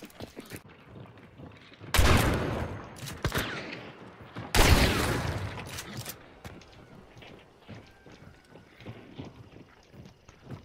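Shotgun slug fire in the online shooter Hunt: Showdown: two loud, close blasts about two and a half seconds apart, each with a long echoing tail, followed by scattered fainter shots and game noise.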